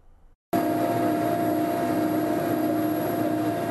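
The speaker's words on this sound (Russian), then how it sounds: "В горах Восточного Казахстана уже несколько суток баражируют вертолеты." A helicopter on a fish-patrol flight over the mountains of East Kazakhstan, heard as a loud, steady, close cabin drone with a continuous whine, starting abruptly after a short quiet moment.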